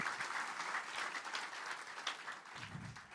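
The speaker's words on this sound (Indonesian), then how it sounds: "beri tepuk tangan buat Tuhan Yesus." A church congregation applauds during a sermon with faint, steady, distant clapping that continues for a few seconds.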